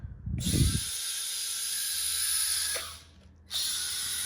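Furitek RC car with an aux motor on a 2S battery pack, running at stock gearing: a steady high electric whine that holds, dips briefly and then returns, with a short thump of handling noise at the start.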